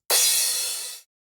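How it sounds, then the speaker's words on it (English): A 909 drum machine cymbal sample played in reverse, one bright, airy wash of shimmering hiss that starts sharply, thins out gradually and stops short after about a second, alone. "This reverse cymbal I believe is a 909."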